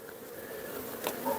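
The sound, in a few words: honey bees buzzing on a hive frame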